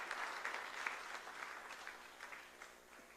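Audience at a regional CMA convention in Bengaluru claps together, a lively burst of many hands with individual claps standing out, gradually thinning and softening toward the end.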